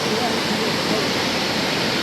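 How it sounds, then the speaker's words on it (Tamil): A waterfall running down every side of a hillside beside a mountain temple, with bathing spots at its base, gives a loud, steady, unbroken rushing roar of falling water heard close up. "இங்கே பாருங்க அருவியை."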